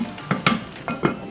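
A lid clatters onto a pan of stir-fried green beans and chicken, making a few separate metallic clinks and knocks in quick succession, fairly quiet and close.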